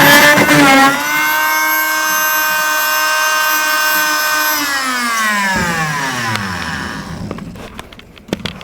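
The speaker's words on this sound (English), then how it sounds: "Thank God for my fine German-made multi-master tool here." A German-made oscillating multi-master tool buzzes steadily at a high pitch while cutting nails inside a duct, then winds down and stops, followed by a few faint knocks.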